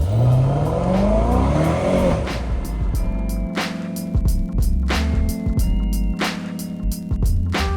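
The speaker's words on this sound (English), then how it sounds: "I hopped back in the car and headed home." Car being driven home at night, heard from inside: a loud, low engine and road drone with rising revs early on, then steady running with repeated clicking ticks over the rumble.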